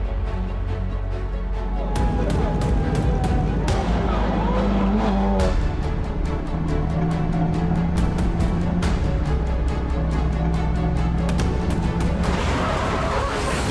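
South African touring cars race on a circuit during a festival meeting, engines roaring loudly and continuously as several cars pass close by, with rising and falling revs and sharp gear-change bursts throughout.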